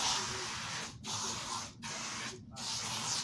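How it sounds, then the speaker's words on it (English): A spray bottle gives three short hissing bursts, close and fairly loud, with brief pauses between them and a steady background hiss throughout. "so I needed to spray"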